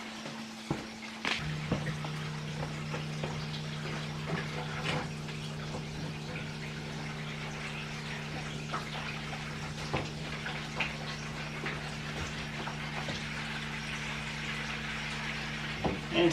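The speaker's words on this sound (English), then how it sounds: "Stick the water hose in there." Water rushes steadily from a hose into a container, a continuous hissing pour over a low, constant mechanical hum.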